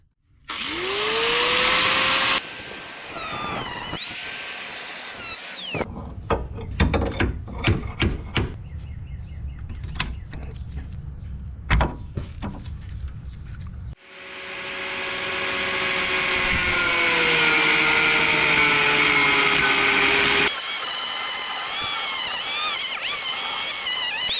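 An angle grinder whines at a steady high pitch as it cuts out a stuck car subframe bolt on a Ford Focus. Long loud grinding runs open and close the stretch, with clanks, taps and rattling metal work in between.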